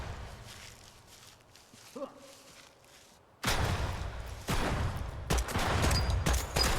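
A grenade goes off in Project Silverfish, a sudden loud blast after a quiet stretch, followed by a sustained rumble and a burst of gunfire.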